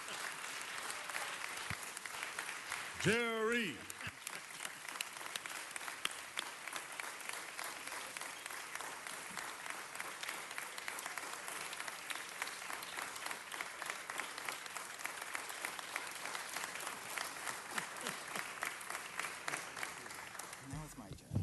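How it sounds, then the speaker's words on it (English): A city council meeting audience gives a long, sustained round of applause, dense clapping continuing throughout, with a brief spoken name and a short vocal exclamation near the start rising above it. "Big round of applause. Get in there."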